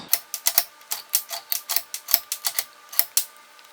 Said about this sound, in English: And then what I'll do is I'll put them in the vise.